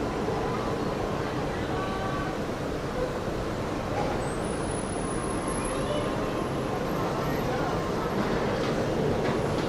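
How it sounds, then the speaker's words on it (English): A teal Walt Disney World monorail rolls into a Magic Kingdom station with a steady, broad rumble and hum that holds evenly throughout, with crowd and background noise mixed in. "We have the monorail, of course, teal rolling into the station right now."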